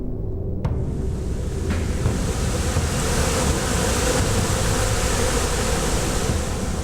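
Worker honeybees buzz around a hive in a steady, dense hum that fills the whole stretch, loud and continuous with no pauses.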